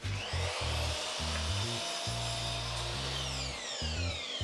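Miter saw cutting wood while building a simple towel rack, a loud whining motor with rough, choppy bursts as the blade bites through the board, continuous and close up for several seconds.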